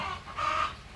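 A US Silkie chicken clucks at close range in a short burst, with a brief louder call midway, no voices present.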